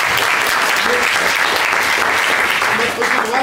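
An audience in a mock courtroom bursts into loud, dense applause, steady clapping throughout with a slight dip near the end.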